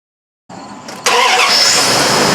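A 2001 Dodge Ram 5.9 liter engine cranks briefly from silence with a starter whir, then catches and settles into a loud, steady idle close by, with no talking.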